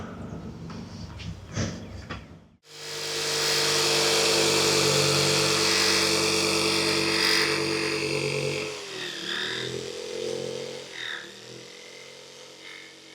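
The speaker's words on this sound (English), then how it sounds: "I'm going to be using a jigsaw to cut these out." A jigsaw cutting small wooden window box pieces: after a few light knocks, the saw starts with a steady buzzing, rattling whine that runs loud for several seconds, then wavers and dips in pitch as the blade works through the wood.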